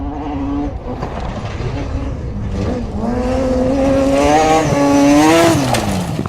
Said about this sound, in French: Pour Philippe Gache, c'est le moment de faire rugir son moteur.